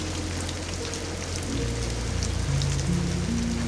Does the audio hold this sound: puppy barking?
no